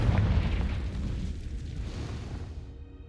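A Confringo fire spell in the Hogwarts Legacy video game bursts into a deep rumbling explosion that starts loud and slowly fades out.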